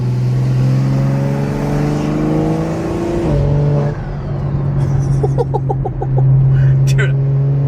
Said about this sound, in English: that turbo sound, like, that's never gonna get old